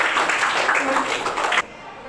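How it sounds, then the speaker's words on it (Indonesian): An audience in a class session claps together, with a brief burst of hand clapping that stops abruptly after about a second and a half, loud and close. "diberi tepuk tangan dulu"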